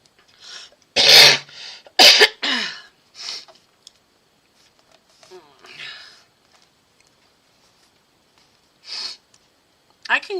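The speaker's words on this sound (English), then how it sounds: "I can usually control my cough." Several sharp, loud coughs burst out near the start, followed by softer scattered coughs and throat noises with quiet gaps between.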